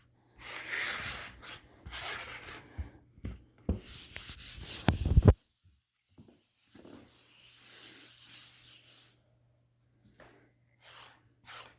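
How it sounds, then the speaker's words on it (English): A whiteboard is wiped with an eraser in quick scrubbing strokes, with bursts of rubbing and squeaking in the first half, then quieter, scattered brushing and faint handling noises. "I'll erase my board."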